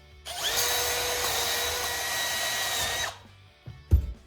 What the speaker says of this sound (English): I use a drill.